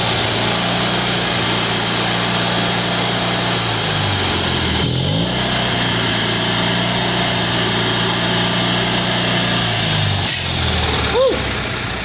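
A Kohler Magnum M18 engine on a Cub Cadet 1882 garden tractor runs loud and steady at throttle, its pitch briefly dropping and then rising again midway before settling back to a sustained drone.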